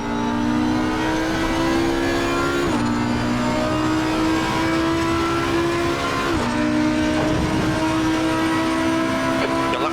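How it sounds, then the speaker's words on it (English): Lamborghini V10 engine of an Audi R8 GT3 Evo II racing in Assetto Corsa Competizione, a loud sustained high-revving howl with two sharp drops at gear shifts before climbing again, alone without talk. "you have the sound of the Lamborghini V10 in the back is just also just very amazing"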